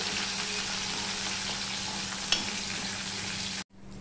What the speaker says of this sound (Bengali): রসুনটা লাল লাল হয়ে ভাজা হয়ে গেছে।